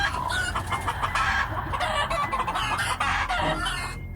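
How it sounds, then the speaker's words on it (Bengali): Chickens clucking and squawking in a cartoon farmyard at midnight, a dense, agitated stream of overlapping clucks and cries, loud and close with no talk. "মুরগিগুলো এরম ভাবে ডাকছে কেন?"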